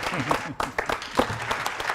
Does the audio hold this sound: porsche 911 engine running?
no